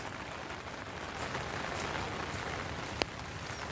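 Rain falls steadily on a surface during the paddy-planting season, a soft even hiss with no letup, broken by one brief sharp tap near the end.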